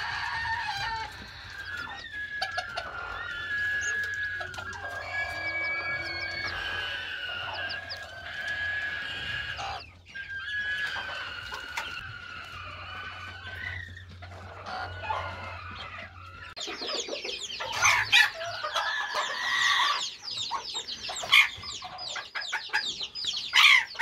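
A 4.5-month-old Serama hen, broody and aggressive, clucks and grumbles repeatedly at close range over a low background hum, with louder, sharper squawking calls toward the end.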